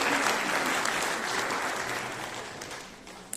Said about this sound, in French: je crois qu'on peut applaudir le festival